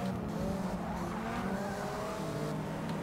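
Tires of a Mazda RX-7 squeal and skid while drifting in Forza Motorsport 6, a continuous whining screech over a steady engine drone from the race.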